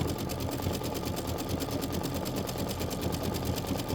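A sewing machine runs a decorative stitch down the center of a Christmas poinsettia piece, a fast, even mechanical whir with rapid needle ticking that stays steady and close.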